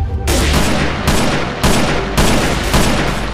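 Robbers fire guns in Minecraft, heavy bursts of loud close gunfire that come in about four dense blasts, each ringing into the next.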